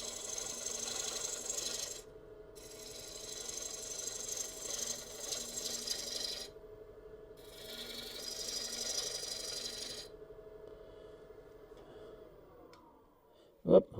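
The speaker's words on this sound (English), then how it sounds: "use the half-inch bowl gouge and start changing the profile a little bit." A half-inch bowl gouge cuts a spinning wooden winged bowl on a lathe, giving a steady hum with scraping, rasping passes that start and stop in long stretches, and a sharp knock near the end.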